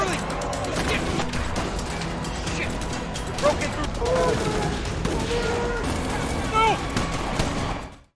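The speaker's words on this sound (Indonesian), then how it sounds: "Aksi baku tembak pun tak bisa terhindarkan lagi." Gunfire from a movie shootout between two gangs inside a headquarters: loud, dense bursts of shots and crashes that run almost continuously for several seconds.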